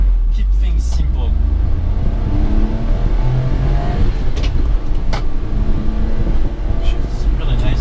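A 1993 Honda Acty SDX kei truck with all-wheel drive drives along steadily, its small engine droning loudly and continuously, with brief rises in pitch as it shifts gears.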